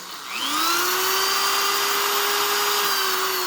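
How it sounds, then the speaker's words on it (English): A high-pitched power drill spins up and whines steadily as its bit cuts through the metal of a Chevy big block starter mounting ear, a loud continuous tone with no voices. "let the drill bit do the work"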